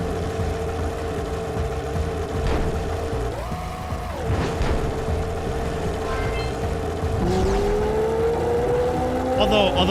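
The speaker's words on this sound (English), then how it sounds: "is a pretty good engine sound" Vehicle engine in the Jak and Daxter video game, a steady mid-pitched motor drone with rising and falling revs, heard close and loud alongside game effects.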